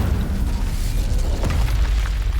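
An Incendio fire spell cast in Hogwarts Legacy comes as a loud, dense, roaring burst of fiery noise. It holds steady for a couple of seconds without pause.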